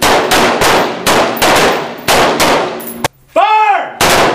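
Live fire on a military range with an M-18 Sig Sauer pistol and M-4 rifle: a rapid run of loud, sharp gunshots close by in steady rhythm, interrupted once by a brief pause and a ringing, warbling electronic tone, with no talking.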